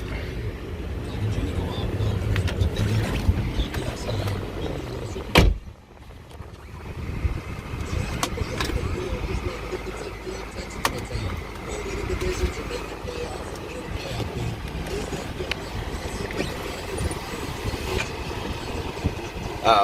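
A 2004 BMW 545i V8 on a drive, its engine and road noise forming a steady low rumble inside the cabin, with a brief dropout midway and faint background talk.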